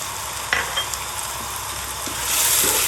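Potato pulao ingredients sizzle in a pan while a spoon stirs them, a few scraping knocks over a constant frying hiss that grows slightly louder toward the end.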